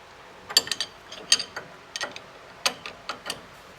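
Ratchet wrench clicking in short bursts while tightening a disc brake caliper bolt on a Chevelle, each stroke a quick cluster of crisp metallic ticks with brief pauses between, close and clear with no talk.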